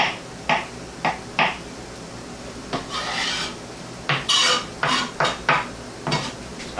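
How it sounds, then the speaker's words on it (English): A knife chops mushrooms into small pieces on a cutting board, giving a close run of sharp, irregular cuts with short pauses between bursts. "I chopped the mushrooms up really small"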